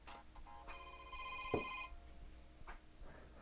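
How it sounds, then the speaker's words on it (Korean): A short electronic smartwatch ringtone plays, a bright sustained chime of layered tones lasting about a second, with a soft tap in the middle. "전화도 워치로 받을 수가 있기 때문에 그에 해당하는 벨소리도 설정을 할 수가 있습니다"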